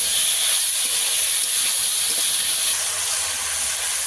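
Vegetables and dried red chillies frying in a pan, a loud, steady hissing sizzle that fills the whole stretch without pause, close and bright.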